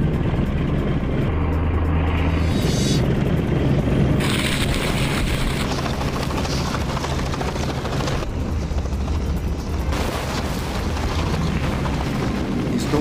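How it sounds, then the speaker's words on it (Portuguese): Violent, close roar of a propeller aircraft engine, rumbling and droning steadily for the whole stretch with shifting wind noise, heard right by the tail wheel of a moving plane. "Sendo violento propulsor do motor do avião e terrivelmente perto de sua roda traseira."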